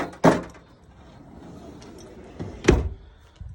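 Drawer in a 2018 Forest River Patriot Edition camper slides and knocks with two sharp thuds about two seconds apart and a softer rumble between them, close by and without talk.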